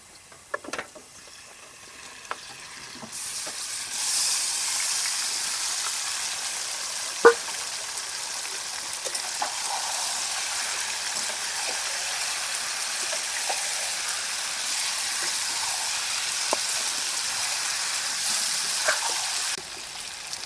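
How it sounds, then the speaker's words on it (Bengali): Marinated duck meat sizzles in a hot pan, a steady mid-level hiss that begins after a couple of soft knocks and runs evenly with occasional small ticks, stopping abruptly near the end. "এখন ম্যারিনেট করা মাংসটা দিয়ে দিচ্ছি।"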